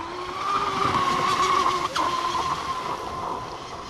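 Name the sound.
RC car spinning out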